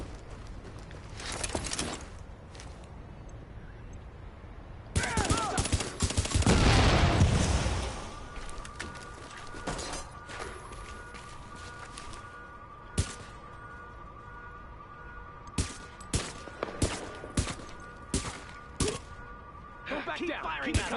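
Gunfire in the video game Tom Clancy's The Division, with a dense burst of shots midway and scattered sharp reports later, all under ongoing speech.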